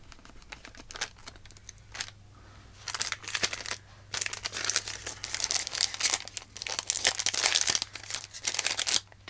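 Plastic packaging crinkles and crackles in bursts while it is handled during collage work, with short pauses between rustling stretches, close and fairly loud.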